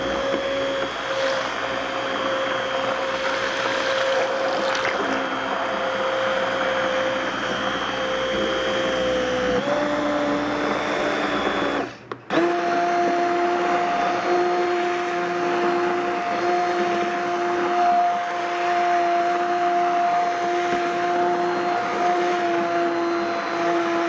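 A blender purees homemade apple butter with a steady, loud motor whine that holds its pitch, breaks off briefly midway, then resumes at a slightly higher, even tone.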